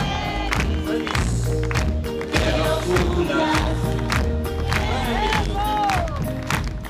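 A crowd at a union inauguration event in Jujuy claps and cheers for a birthday, lively applause mixed with voices and background music, loud and continuous throughout.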